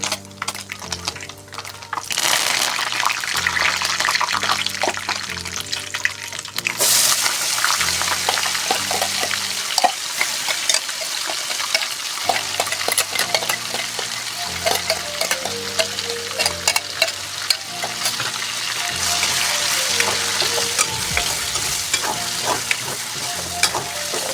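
Masala frying and being stirred in a pan for a village-style Chhattisgarhi chicken curry gravy, a steady close sizzle with repeated scraping stir strokes throughout, some clinks of utensil on pot, no speech.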